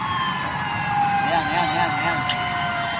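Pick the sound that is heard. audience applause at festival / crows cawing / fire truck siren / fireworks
fire truck siren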